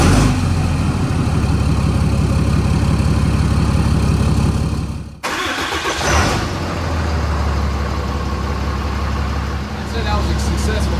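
A diesel truck started cold for the first time, a loud steady engine drone that cuts out briefly and then settles into a rough, rumbling idle close by, with a voice talking over it.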